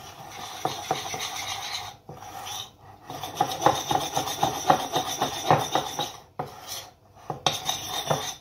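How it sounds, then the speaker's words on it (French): Parmesan and flour are worked together in a bowl, giving close, steady scraping and rubbing with repeated utensil clinks against the bowl, broken by a few brief pauses. "Y mettre notre parmesan et notre farine. On va bien mélanger le tout."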